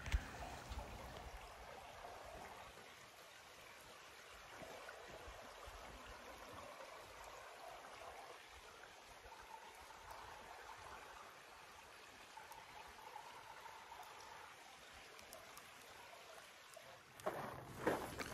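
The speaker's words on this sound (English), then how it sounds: "we made our way down to the San Pedro River, which looks more like a creek than a river this time of year" The San Pedro River in Arizona, running low like a small creek in the dry season, gives a soft, steady outdoor rush and trickle of flowing water, faint and continuous throughout with no talking.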